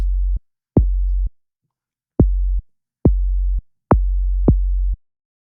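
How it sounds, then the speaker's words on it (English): Deep synthesized kick hits fused with a low sub bass tone from a Repro-1 synth, each with a sharp click attack, played in a sparse pattern of short bursts. "the kick drum and sub bass sound"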